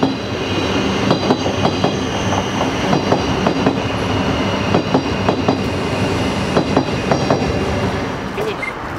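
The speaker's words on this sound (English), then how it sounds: "Is that Lewis's train?" A train rumbles past steadily with rhythmic clickety-clack of wheels on rails, loud and close, filling the whole stretch.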